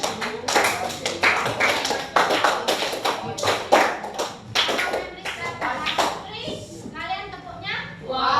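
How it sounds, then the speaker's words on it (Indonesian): A classroom of children claps hands in quick rhythmic groups on a teacher's counting cues, sharp, close slaps in bursts, with the teacher and kids speaking between and over the claps. "kalian tepuk 3 kali"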